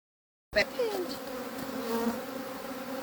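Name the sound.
angry honey bees buzzing around hive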